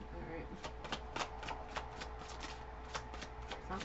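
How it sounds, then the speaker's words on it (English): Tarot cards are shuffled by hand in a quick, steady run of crisp flicking snaps, fairly faint and close, repeating roughly every third of a second. "We'll shuffle one more time, Spirit, and then I'll draw."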